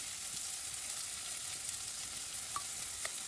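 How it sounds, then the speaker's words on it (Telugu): Paneer frying over a medium flame makes a faint, even hiss of oil, with a couple of tiny pops and clicks and no talking. "వీటిని మీడియం ఫ్లేమ్లో పెట్టుకొని ఫ్రై చేసుకోండి"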